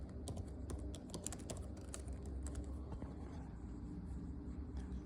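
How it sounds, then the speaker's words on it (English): Typing on a computer keyboard at a desk, a steady run of quick clicks and key taps over a low background hum, with no talking. "let me type it in"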